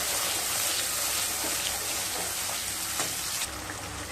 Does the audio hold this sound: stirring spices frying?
yes